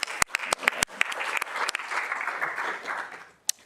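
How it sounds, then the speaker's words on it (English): An audience at a city council meeting claps, starting with a few sharp individual claps that swell into a brief burst of steady applause before fading, with one last clap at the end. "So we'll give him a clap."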